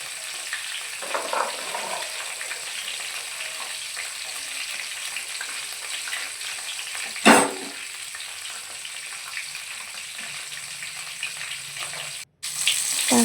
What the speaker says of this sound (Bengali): তারপরে টমেটোটা একটু নাড়িয়ে নিচ্ছি। এই যে পোড়া পোড়া একটু ভাজা ভাজা হয়ে যাবার পর